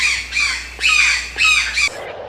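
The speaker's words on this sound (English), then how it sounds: "This is ARATINGA MITRATA, a large parakeet." A mitred parakeet (Aratinga mitrata) squawks four times in quick succession, loud, harsh and close, each call rasping and slightly falling, with the last cut short.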